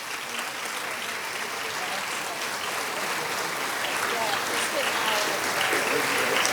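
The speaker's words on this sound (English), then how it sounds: "Let's give them a round of applause." Sustained crowd applause for Biloxi Sports Hall of Fame class of 2021 inductees standing at a ceremony, steady clapping throughout that swells slightly toward the end, with faint voices mixed in.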